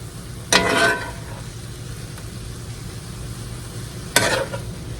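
Browned chicken sizzling in a large 9 by 13 pan while a slotted spoon lifts pieces out, a steady frying hiss with two sharp scraping stirs near the start and end.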